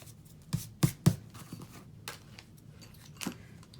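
A paper cutter trims a card sentiment with a few soft, quick slicing clicks close by, three sharper strokes in a row followed by fainter handling noises, all quiet with no talking.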